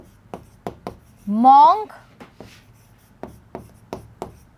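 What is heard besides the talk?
writing by hand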